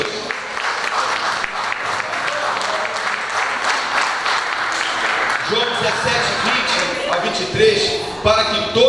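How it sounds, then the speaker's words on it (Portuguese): Church congregation applauding during a worship service, steady dense clapping filling the space, with a voice speaking over it and a brief cluster of bright tones near the end. "Você pode aplaudir o Cordeiro de Deus?"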